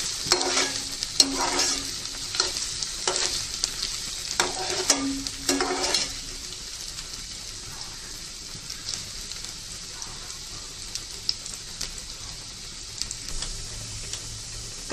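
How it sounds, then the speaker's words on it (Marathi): Onion frying in a pan until reddish, a steady crackling sizzle with repeated stirring scrapes through the first six seconds, then the sizzle carries on alone and a little quieter. "लालसर होईपर्यंत कांदा आपल्याला फ्राय करायचा आहे"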